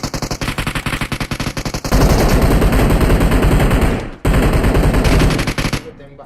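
Sustained rapid automatic gunfire in PUBG Mobile, loud and close, running in dense repeated bursts with a brief gap near the end, then tapering into spaced shots.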